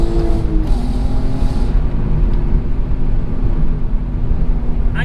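A VW Golf R32 pulls hard in second gear with the throttle floored, its engine droning loud and steady throughout, heard from inside the cabin with a dense low rumble.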